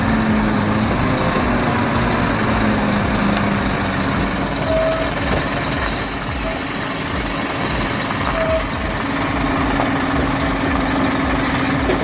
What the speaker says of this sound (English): The Scania 6x6 is a beast on wheels.